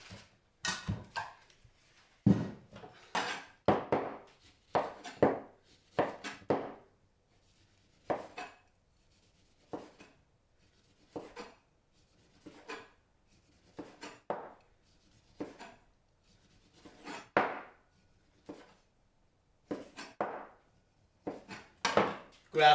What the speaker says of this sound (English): Grab a nice little fillet knife, and once you get all your segments out, you mix it around.